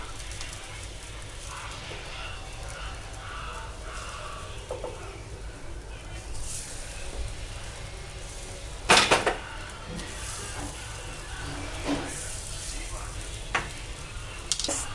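Rajma tikkis sizzle steadily in a hot pan, with a few louder scraping clatters as they are flipped over, under occasional quiet talk.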